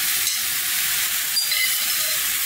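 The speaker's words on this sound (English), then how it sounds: "here's where I'm going to start adding all of that seasoned liver to the pot" Seasoned chicken liver sizzles in a hot pot, a loud, steady, close frying hiss that holds evenly throughout, with no talking.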